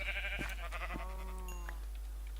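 A Minecraft sheep gives several short, nasal bleats in quick succession over a low constant game hum, with no talking.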